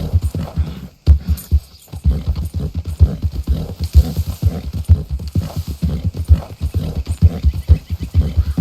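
Rhythmic horse hoofbeats clip-clop steadily at a trot in Red Dead Redemption 2, with the horse neighing over them, loud and close.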